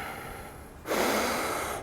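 Forceful breathing through the nose during a conditioning workout with speed trainers, a long airy inhale-like rush followed by a stronger, louder sniffing exhale, close and without talk.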